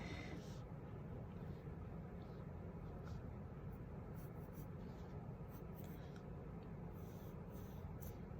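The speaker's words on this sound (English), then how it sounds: "Draw a shirt." A drawing tool scratches steadily across paper, a continuous soft rasping stroke with no pauses, close but quiet.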